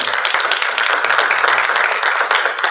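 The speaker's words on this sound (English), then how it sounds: "we need to give them a round of applause" Applause at a homecoming national alumni association meeting for board of trustee members: a steady, dense wash of many hands clapping together, loud and sustained throughout with no pauses or speech.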